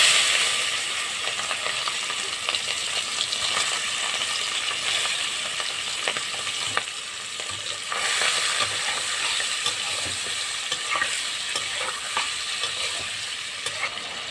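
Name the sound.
shrimp frying in oil with salt and turmeric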